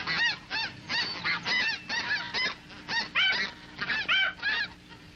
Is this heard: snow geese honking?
yes